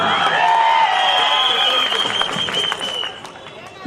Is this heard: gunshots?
no